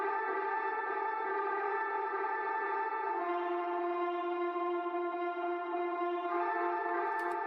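Ambience rack atmosphere without a volume shaper, a flat, unchanging drone of layered sustained tones holding steady, with only slight shifts in its harmonics partway through, quiet and alone.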